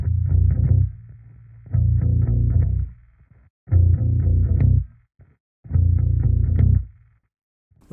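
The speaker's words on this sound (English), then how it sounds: "Now that that is finished, we're gonna go over to the bass," A distorted, chorus-tinged bass line for a nu-metal track plays on its own in four heavy, chugging phrases with short gaps between them, loud and low with a gritty edge.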